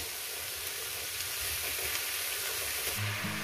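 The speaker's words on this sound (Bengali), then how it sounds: "এটা আমি সুন্দর করে ভেজে নেব" Small radish and its stalks fry in a pan with a soft, steady sizzle, faint and even, with a low hum entering near the end.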